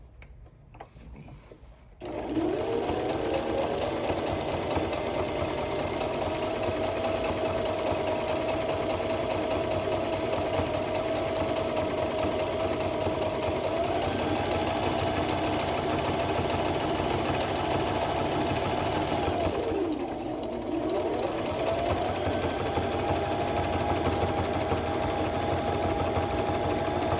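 A sewing machine runs a long continuous line of stitching on a boxy bag, a loud, close, steady motor hum with rapid needle chatter, briefly slowing near the end before picking back up.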